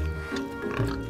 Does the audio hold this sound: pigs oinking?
yes